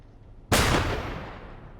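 A single gunshot in the crime strategy video game Empire of Sin, a sudden sharp loud blast with a booming tail that decays over about a second, after quiet background.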